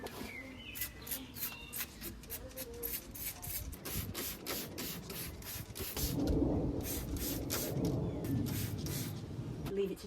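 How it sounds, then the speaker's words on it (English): Waterproofing spray hisses onto a garden cushion outdoors in a long run of quick rapid bursts, fairly quiet and close, with a steady rubbing texture beneath and no talk. "I'm going to take this outside, give it a spray."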